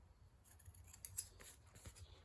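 Soft snipping of scissors cutting through material, several quiet cuts in a row at close range, with no voices.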